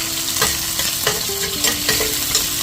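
Onions frying in a pan, a loud continuous sizzle punctuated by regular spatula scrapes and stirring knocks, close up with no talking.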